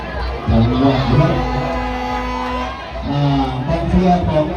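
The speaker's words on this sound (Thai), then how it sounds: "กองเชียร์ของเขาก็แรงครับ" Football supporters cheer at a match between the Phra Pradaeng and Bang Phli police teams. The loud crowd swells in waves of shouting and cheering, with voices talking close by in between.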